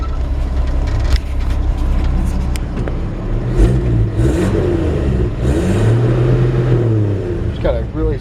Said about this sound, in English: Let you listen to the engine first.